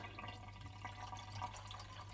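Faint water trickles into a clean tin can being filled to the top, a soft, close, dribbling flow over a low steady hum for about two seconds.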